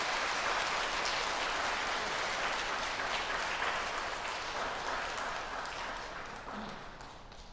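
A church audience at a Lenten lecture gives a priest a big welcoming round of applause: dense, sustained clapping from many hands filling the room, tapering off near the end.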